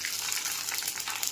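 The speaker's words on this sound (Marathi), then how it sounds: "अजून तुम्हाला मी 2-3 पापड तळून दाखवते." Thin rava (suji) papad frying in hot oil, a steady bright hiss and crackle sizzling evenly throughout with no talk.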